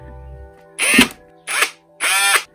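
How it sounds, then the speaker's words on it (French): A power drill bores out a rivet on a Peugeot 103 moped in three close, loud whining bursts separated by brief pauses, with a low engine-like hum at the start. "Et du coup celui-là faut que je le perce."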